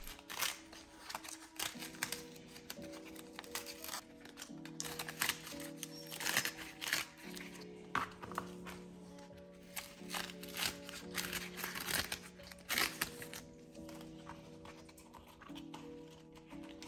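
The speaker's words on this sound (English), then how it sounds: "tape peeling ASMR." Tape peeled off a foam prop ring with a rubberized coating, heard as a run of crinkly tearing and crackling strips over a faint background hum, close and soft, with no voices.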